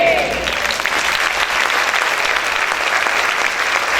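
A church congregation applauds loudly and steadily, a dense wash of many hands clapping up close, with voices mixed into the crowd.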